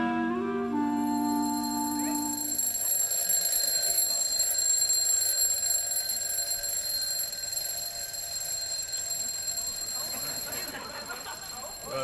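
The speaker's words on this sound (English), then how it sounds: "Your alarm's going." An alarm clock rings in a bedroom, a steady high electronic tone that sounds continuously at moderate volume, with faint voices in the background.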